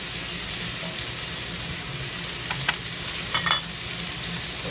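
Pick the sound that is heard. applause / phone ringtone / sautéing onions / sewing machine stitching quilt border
sautéing onions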